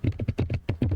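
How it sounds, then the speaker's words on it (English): Quick, steady keystrokes on a computer keyboard as a Linux install command is typed: a close, even run of about ten clicks in one second, with no voice. "Now I can type in sudo dnf install Elasticsearch."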